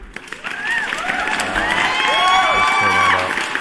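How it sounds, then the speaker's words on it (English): Canned applause and cheering from a sound effect play during a live cryptocurrency stream: a dense burst of clapping with whoops and crowd noise, briefly overlapped by someone speaking. "let me give you guys a round of applause real quick"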